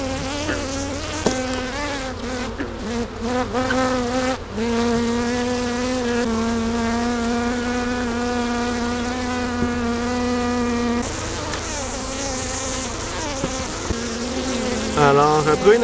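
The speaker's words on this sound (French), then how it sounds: "Il y a beaucoup d'abeilles à l'entrée qui battent des ailes pour orienter les nouvelles." Honeybees crowd a hive entrance, wings fanning as they fly about, producing a steady, continuous buzzing drone that stays close and loud throughout, with shifting pitches as individual bees pass near.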